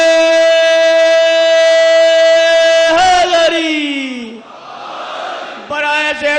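A crowd at a Muharram religious gathering shouts slogans in unison, a loud sustained chorus of voices holding long tones, then breaking into a ragged cheer before resuming.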